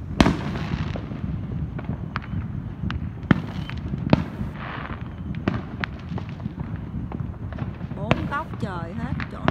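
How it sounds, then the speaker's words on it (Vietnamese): Large fireworks tubes, set off as night falls, send shells bursting high in the sky. Sharp distant bangs and crackles pop irregularly over a constant rumble, with whistling rockets near the end and people talking throughout. "những cái ống pháo to, thiệt là to, nổ lên rất là cao và đẹp"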